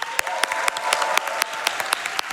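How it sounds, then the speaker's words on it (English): A crowd claps steadily throughout, dense and lively, with a few sharper individual claps standing out from the wash of applause. "Can we get a round of applause for LabX, please?"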